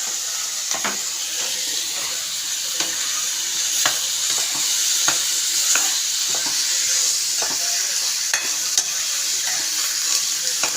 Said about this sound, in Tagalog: Tapos, lagyan natin yung hipon.